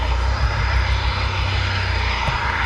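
Military aircraft taxiing out for takeoff at a busy airfield, their engines giving a loud, steady, continuous roar close by.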